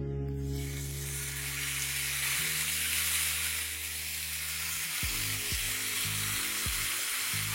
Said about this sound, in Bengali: আর গ্রিল প্যানটা একবার ভালো করে গরম হয়ে গেলে যে চিকেনটা আমি ম্যারিনেট করে রেখেছি সেটাকে আমি এখানে ডাইরেক্টলি দিয়ে দেবো।